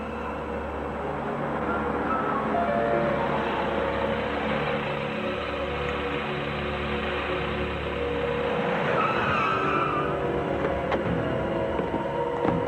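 A car rolls into a parking garage on 21st Street, its low engine rumble droning steadily for several seconds at a moderate level with no voices.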